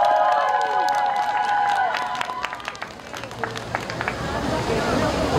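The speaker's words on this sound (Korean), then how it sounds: "박수 한번 주세요." Crowd at an outdoor youth day festival concert in Seongbuk cheering and clapping between songs, scattered sharp claps and shouts rising over a lingering musical tone and murmuring voices.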